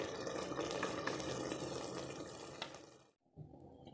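Water pours into a cooking pot of chickpeas in a steady gushing splash for about three seconds, cuts off, then a brief trickle and drip follow, close and without talk.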